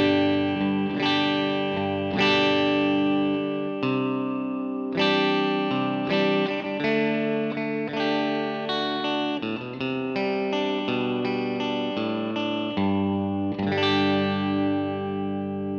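Clean electric guitar chords on a Les Paul Junior-style guitar in the noise-cancelling middle pickup position, strummed steadily and close for about fifteen seconds without speech.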